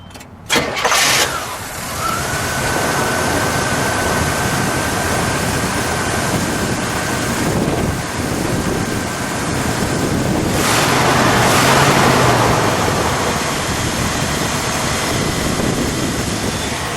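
A 1975 Buick Century Regal with a 350 V8 cranks over and catches with a loud burst, then settles into a steady, even idle that runs on throughout. The exhaust holds a continuous rumble close by, with no talking.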